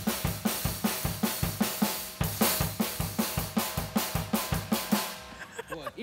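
Rhythmic foot tapping in a steady chastushka beat, about two taps per second with accented, evenly spaced thumps for five seconds before trailing off, heard alone and fairly close.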